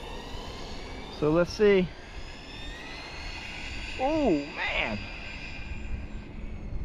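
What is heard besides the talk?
Team Corally Asuga XLR RC buggy motor sounding like a jet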